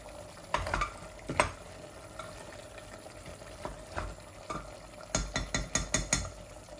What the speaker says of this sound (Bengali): আমি শুধু ভুনবো যে এর জন্য নাড়াচাড়া করতেছি